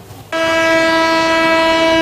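A train at a railway crossing in Sampaloc, Manila blasts a loud, steady, sustained horn that starts abruptly and holds for nearly two seconds, close and alone.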